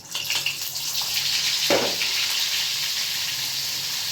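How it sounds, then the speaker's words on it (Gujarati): Butter sizzles in a hot pan for the tempering of a pav bhaji, a steady hiss and crackle with a brief splash of frying partway through, continuous and close. "હવે આમાં હું માખણ નાખું છું."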